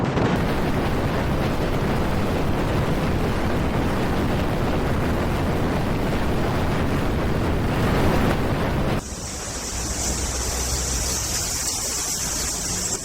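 Strong wind gusts drive blowing snow across a highway near Stony Nakota outside Calgary, a loud, continuous roaring rush that buffets the microphone, then drops to a steadier hiss with a high whine after a sudden shift.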